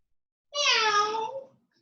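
A single drawn-out meow, voiced by a person imitating a cat, clear and close against silence.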